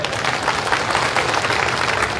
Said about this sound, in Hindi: तालियां महिलाओं के लिए क्यों नहीं बजा रहे हो?